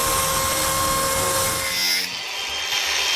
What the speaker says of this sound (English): Can we just mini montage all the power tools I've used and how I react to using them?